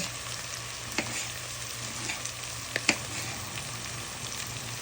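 Sardines and tomato fry in a pan with a soft, steady sizzle and crackle, broken by a few brief scrapes and stirring clicks, close and fairly quiet with no talk.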